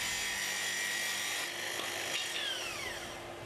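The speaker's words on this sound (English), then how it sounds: "Now release the stop and make the full depth cut." A Makita SP6000K plunge saw running on a guide rail makes a full depth cut, a steady high motor whine with a rasping cutting hiss that holds for the whole span, close and loud, with no talk.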